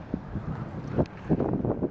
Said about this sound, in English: Nice and windy, as you can probably hear right now, very windy.